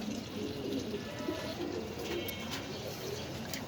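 A dragon pigeon hen coos softly against a constant backdrop of other birds, with low repeated coo notes blending into a busy, noisy loft or market setting.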